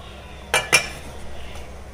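A metal lid lifted off a cooking pot used to steam an eggless dalgona coffee cake on the stove, giving two quick, close clinks about a quarter second apart, then quiet.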